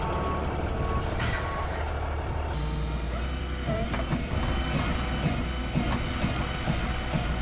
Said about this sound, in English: They just back the truck in and grab onto it and lift it up.